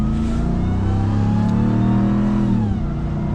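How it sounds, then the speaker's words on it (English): A 2022 RAM TRX pickup with a supercharged V8 accelerating under light throttle in automatic mode, heard from inside as a loud rising engine roar with supercharger whine, pitch climbing steadily before easing off. "you hear that supercharger."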